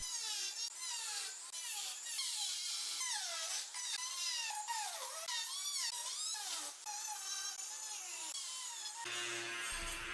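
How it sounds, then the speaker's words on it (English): Rotary Dremel tool cutting rough carbon fiber edges on a 2015-2023 Mustang center console overlay, a continuous high whine that wavers in pitch as it bites, close and steady throughout. "I'm going to start by grabbing my rotary tool, also known as a Dremel tool. I'm going to start cutting away all these little icicles"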